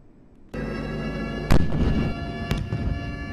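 Simulated enemy air raid on a military airfield during a naval aviation logistics drill, with loud booming explosions: a sharp blast at about a third of the way in and another later, over a continuous roar of background noise.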